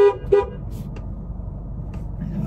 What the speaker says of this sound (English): You was beeping the horn all crazy.